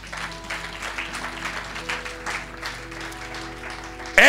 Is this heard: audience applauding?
yes